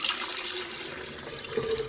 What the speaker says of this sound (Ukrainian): Виливаємо в цей електрочайник